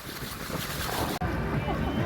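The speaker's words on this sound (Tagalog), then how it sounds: "Talakas ng hangin." Strong wind roars across an open microphone at sea on a small fishing boat during a storm, a steady loud rushing with water and wave wash, briefly cut out once, with faint voices underneath.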